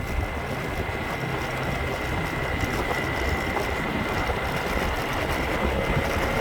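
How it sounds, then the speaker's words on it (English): A motorbike engine drones steadily and loudly close by on a village road in Thailand, a continuous buzzing hum holding through the whole stretch with no voices over it. "you just get the odd motorbike that drives past"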